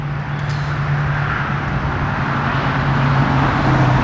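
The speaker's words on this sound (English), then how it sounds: "You're gonna have to forgive the road noise." Steady road noise from cars passing near a rural Georgia cemetery in Newton County, a continuous broadband rush with a low engine hum running throughout, fairly loud and with no voices.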